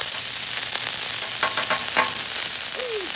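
Butter sizzles and fries steadily in a hot pan while breakfast sandwiches are made, a constant close hiss with a few faint clinks and scrapes over it.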